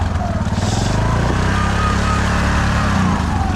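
A Honda Fourtrax 300 6x6 ATV engine runs steadily at close range, a loud continuous low throbbing drone that holds without breaks.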